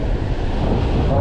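Rough sea waves crash and churn with heavy wind buffeting the microphone while fishing off Oman, loud and close throughout.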